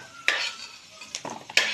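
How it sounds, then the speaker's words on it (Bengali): Fried papaya being lifted out of a pan for shukto, a Bengali vegetable dish, with a few sharp scraping clinks of a utensil against the pan over faint background sizzle. "এবার পেঁপেটাকে আমি তুলে নিচ্ছি।"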